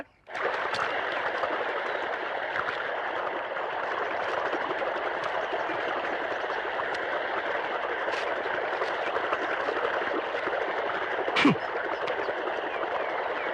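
Water runs steadily through an irrigation channel in a garden, a continuous broadband rush that holds an even level throughout, with one brief sharper knock near the end.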